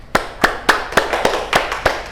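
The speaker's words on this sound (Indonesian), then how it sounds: "Oke, tepuk tangan." A classroom group claps hands together for a correct answer, seven or eight sharp, evenly spaced claps in a quick steady rhythm, close and loud with little else around.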